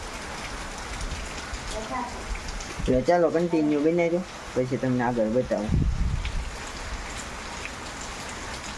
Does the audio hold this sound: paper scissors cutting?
no